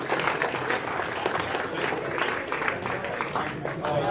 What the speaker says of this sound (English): big round of applause for all of our contestants.